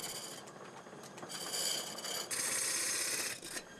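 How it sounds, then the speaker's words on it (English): Foot-pedal controlled wood lathe turning timber in a Kyoto woodcraft workshop, a steady whirring hiss with a scraping, rasping edge that brightens and swells in bursts as the speed shifts, with no talk. "The lathe is controlled using foot pedals. He adjusts the speed at which the timber rotates as he works."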